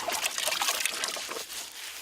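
Water trickles and sloshes close by as a father washes his young son outdoors in a Congolese village with no nearby water source, a steady splashing dribble lasting a couple of seconds.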